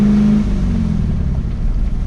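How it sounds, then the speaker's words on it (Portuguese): An Adamo GTL sports car's boxer engine runs loud and close, a steady, deep, rumbling drone with slight fluctuation throughout. "o ronco do motor boxer para mim é algo bastante musical"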